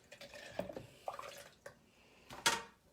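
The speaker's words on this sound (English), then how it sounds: "I'm going to stir up our dirty water and get a good cup of dirty water here." Dirty water stirred in a cup, giving a few light, scattered clinks and wet sloshes spread over a few seconds, close by and fairly quiet, with no talking.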